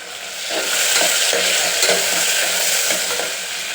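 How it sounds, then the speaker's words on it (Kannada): Tomatoes frying with onions and spices in hot oil for tomato bath, a steady close sizzle with soft stirring scrapes throughout, no voices. "ಈರುಳ್ಳಿ ಕೂಡ ಚೆನ್ನಾಗಿ ಫ್ರೈ ಆಗಿದೆ. ಇನ್ನು ಟೊಮೊಟೊ ಹಾಕ್ತಾಯಿದ್ದೀನಿ."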